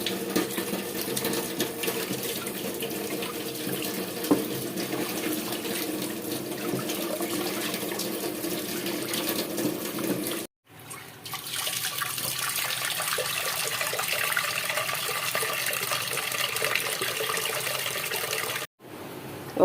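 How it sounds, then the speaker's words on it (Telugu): Toor dal lentils are washed under running water, a steady splashing tap flow that continues for nearly twenty seconds with two brief interruptions. "ఇప్పుడు ఇది మనం చక్కగా కడిగి నానబెట్టుకుందాం"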